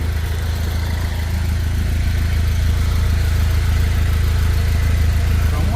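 A 2010 Chevy Cobalt SS turbo engine idles with a steady, low rumbling drone that holds an even level throughout, close by and continuous.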